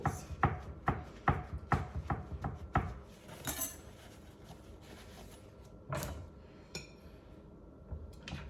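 A knife chops vegetables on a cutting board in a run of about eight sharp, evenly spaced strikes, then a few scattered knocks and scrapes follow in a quiet kitchen.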